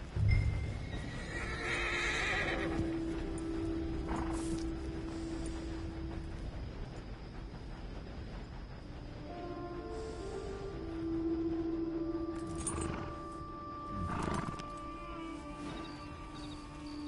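A horse in the Red Dead Redemption 2 game neighs loudly, then its hooves clip-clop steadily, with more whinnies and snorts rising over the hoofbeats.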